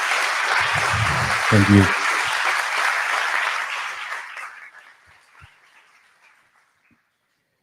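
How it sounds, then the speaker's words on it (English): Applause from a conference audience honoring the organizing and scientific committees, a dense steady clapping that swells briefly, then thins and fades out over several seconds, with a short spoken thanks near the start. "if you can spare an applause for the organizing committee and the scientific committee"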